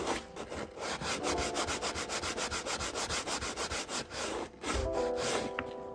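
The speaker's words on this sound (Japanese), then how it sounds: "ボンドは硬いので150番で当て木をして研磨しています。" Hardened wood glue being hand-sanded with 150-grit paper wrapped on a sanding block, a close, rhythmic rasping of quick back-and-forth strokes that briefly pauses, then resumes, with no talking.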